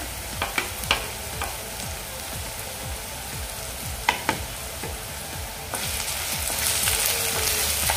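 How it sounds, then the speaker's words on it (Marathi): Chillies and onion sautéing in a frying pan, with a steady sizzle, a few sharp spatula clicks and scrapes, and the frying growing louder and hissier toward the end. "आता मिरच्या आणि कांदा व्यवस्थित आपण परतून घ्यायचा आहे।"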